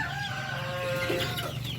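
Broiler chickens on a poultry farm cluck steadily at a moderate distance, several birds overlapping in a low continuous murmur with a few sharper calls.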